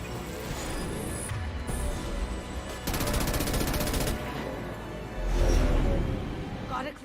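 A sustained burst of rapid gunfire from the Mass Effect 1 video game rattles for about a second in the middle. A background game score plays throughout, and a voice speaks around the shots.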